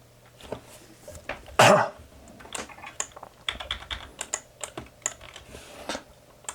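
Computer keyboard typing nearby, scattered clicky keystrokes at an irregular pace with one louder clack early on and quiet gaps between short bursts.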